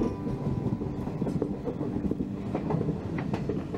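A passenger train runs steadily on its rails, with a low continuous rumble and faint rhythmic clickety-clack of the wheels, heard from on board.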